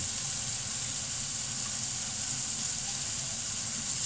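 Onion sizzling and frying in a pan for a peanut butter chicken stir fry with garlic and chilli, a steady close hiss running unbroken with no talk.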